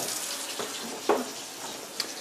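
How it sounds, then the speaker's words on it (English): Glass cider bottles are hand washed under a running tap, a quiet steady trickle of water with a few brief clinks and splashes, close by and with no talking. "we're also starting off just hand washing all the bottles, get the dust off them"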